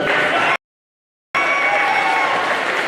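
Loud applause from a crowd at a college men's basketball game, briefly cut off to silence before the clapping resumes just as strongly.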